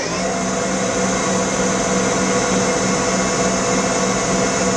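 Spindle of a Mori Seiki SL-3A CNC lathe spinning at 1,000 RPM, a steady broadband whir with a constant hum, close and unchanging throughout.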